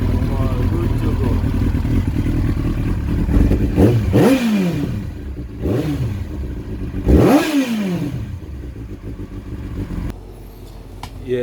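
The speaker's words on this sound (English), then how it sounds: "start your bike" A motorbike engine starts after an oil change, idles and revs up in several rising bursts, loud and close, with a rough rumble between throttle blips.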